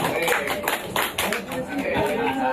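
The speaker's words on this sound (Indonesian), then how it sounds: "disilahkan tepuk tangan." Audience applause at a school principal's retirement farewell, a dense patter of many hands clapping steadily under a speaker's voice on a microphone.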